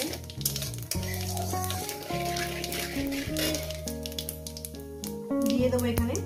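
Cumin seeds fry in hot oil with a soft, steady sizzle that sits beneath louder background music throughout.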